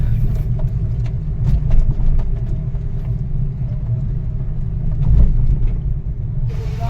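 Low, steady rumble of a car engine running at close range while parking, with faint clicks and knocks over the drone.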